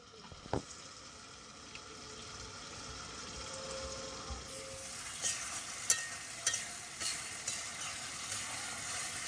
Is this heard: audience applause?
no